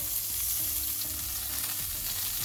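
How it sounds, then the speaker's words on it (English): Steak frying in a hot pan, a dense, constant sizzle with no pauses, close and fairly loud, with faint low knocks underneath. "Steak is done. It's been cooking for 8 minutes."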